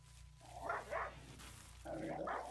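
Dogs in the video game RimWorld give a few faint, short barks in two clusters, soft and somewhat distant over a low steady hum.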